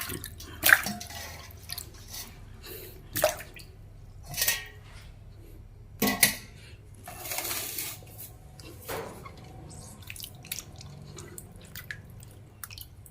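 Salted pork skin, burned and soaked in brine, is rinsed in water with scattered splashes and drips, several distinct sloshing bursts separated by quiet moments, close and fairly soft.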